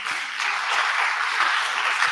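A hearty round of applause fills a mentorship event, dense steady clapping from a sizable audience, fairly loud and continuous throughout with no talking over it.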